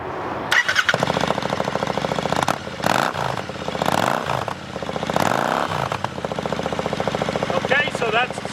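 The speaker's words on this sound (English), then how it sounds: "my assistant Felix here is going to fire it up and rev it up for you" Royal Enfield 650 twin motorcycle fitted with S&S mufflers with the stock baffles in, cranking to life and then idling with a loud close rumble, broken by several rising revs that drop back to idle.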